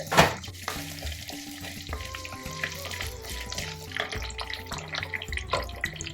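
Onions and curry leaves sauté in hot oil in a pan for South Indian sambar, giving a steady soft sizzle with small crackles and a sharper pop at the start, with no talking over it.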